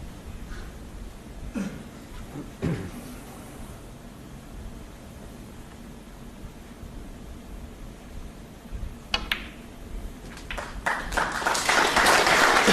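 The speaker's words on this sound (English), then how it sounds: "The crowd applauding because they know that that was frame ball." A snooker crowd applauding a frame-ball shot, clapping that starts sparse around mid-clip and builds into sustained, fairly loud applause over the last few seconds, with no one speaking.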